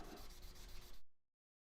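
Sandpaper rubbed lengthwise along a pen blank, a close, soft, even scratching that stops abruptly after about one second.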